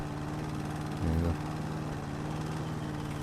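A lawnmower in the video game House Flipper runs steadily with a continuous droning engine hum and a brief louder surge partway through, with no talk over it.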